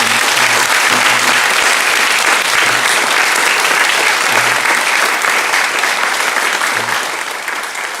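A church congregation at a Sunday morning service applauds loudly and steadily for about eight seconds, dense clapping that fills the hall and fades slightly at the end, with a few brief voices underneath.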